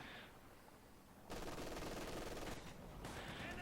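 Machine gun fire rattles in a World War II real-time strategy battle, a faint lull giving way to a sudden loud sustained burst, a brief drop and then another burst, with no talk over it.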